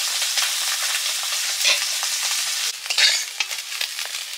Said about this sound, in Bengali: চুনো মাছগুলো ভাজা হয়ে গেছে,